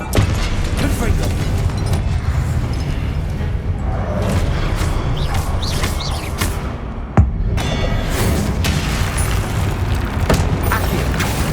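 A Confringo spell blast goes off in the video game Hogwarts Legacy, a sharp booming burst that stands out against dense, continuous battle noise, music and shouting.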